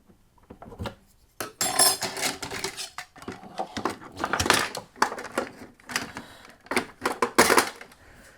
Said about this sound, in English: I'm going to drop the guard on and we're going to see how the fence functions with the guard.